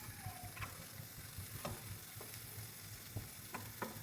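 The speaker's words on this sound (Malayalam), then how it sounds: "ഇഞ്ചിയും വെളുത്തുള്ളിയും കുറച്ച് നേരം ചൂടാക്കിയെടുക്കാറുണ്ട്" Garlic and ginger fry in a pan for a squid and potato roast, giving a soft steady sizzle with a few light scraping stirs of a spoon, close but quiet, with no talk.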